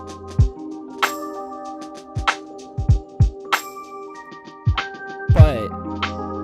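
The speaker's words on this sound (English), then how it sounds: "without it, the drums sound like this." A programmed drum beat in Ableton Live with no guitar amp plugin on it: punchy kick hits and bright hi-hat ticks in a loose pattern over a steady sustained tone, ending in a denser cluster of hits.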